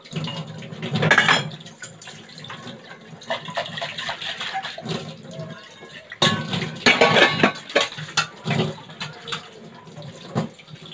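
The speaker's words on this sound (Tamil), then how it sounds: "இப்போ நம்ம பாத்திரம் எல்லாம் வாஷ் பண்ணிக்கலாம்." Dishes and cooking pots clatter and clink against each other over running water in a home kitchen, with bursts of scrubbing and rinsing close by.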